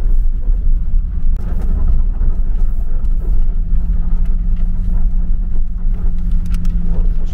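A vehicle drives along the scenic road through Monument Valley, and its engine gives off a steady low rumble from inside the cabin. Wind and road noise run under the rumble the whole time, and no one speaks.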